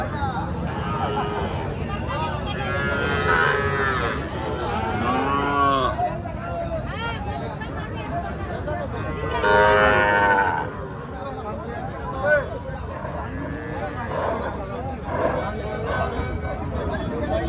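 Sahiwal cattle and calves moo repeatedly, loud and close, at a livestock market amid a busy crowd of talking voices and general market bustle.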